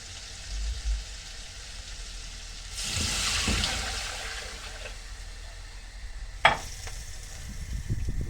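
Hot broth poured into a pan of sizzling tomato sauce for okra and molokhia, with a low steady frying hiss that swells into a rush of pouring liquid and a sharp splash, then settles back to bubbling.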